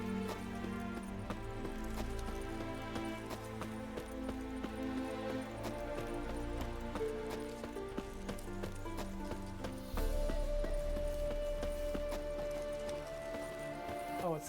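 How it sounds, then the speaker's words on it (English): Horse hooves clip-clopping in The Witcher 3 video game, a steady repeating gait heard under a game music score throughout. "I see a horse over here."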